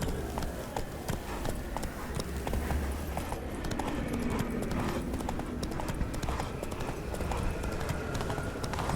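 Roach, a horse in The Witcher 3, gallops with steady clip-clop hoofbeats running continuously throughout, close and loud, with faint voices talking in the background.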